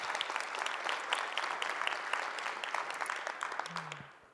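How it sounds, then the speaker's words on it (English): An audience at a digital health talk claps for a speaker, a dense, steady burst of applause that holds evenly and then tapers off at the end. "Let's give Dr. Rising a round of applause."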